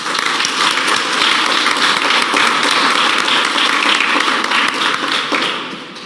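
Applause from the audience at an Indigenous Peoples Day commemoration, a dense steady patter of many clapping hands that keeps going throughout and tapers off at the end.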